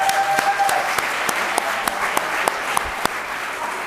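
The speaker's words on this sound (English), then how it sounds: "when you hear your country name called, shout, clap, and everybody follow along" Youth entrepreneurship challenge audience clapping and cheering for their country, a fairly loud, continuous roar of applause with a few sharp, distinct claps rising above the crowd.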